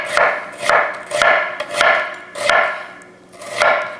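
A knife slices thinly through an onion on a cutting board in a home kitchen, giving about six steady, evenly spaced chopping strikes that are close and clear, with no talking.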